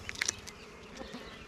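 Honeybees in a nuc hive buzz softly and close by during an inspection, a faint steady hum with a few brief louder buzzes near the start.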